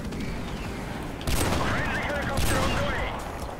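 Sniper rifle shots boom in a video game, two sharp, loud reports about a second apart, with a person talking over the action.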